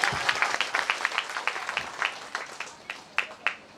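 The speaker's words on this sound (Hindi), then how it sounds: "एक बार ताली तो बजाओ" A crowd claps in scattered, uneven bursts at a Shri Krishna Janmashtami fair in Mahuahi village in Mithila. The claps are sharp and fairly close, with no one speaking over them.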